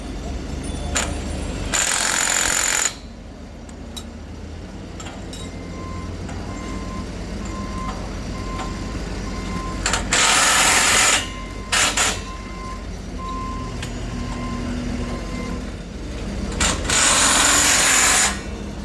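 Bolts are torqued up on the unpowered dollies of a Goldhofer heavy-haul trailer. Three loud bursts of harsh power-tool rattle stand out over a steady low engine rumble outdoors, with brief pauses between them.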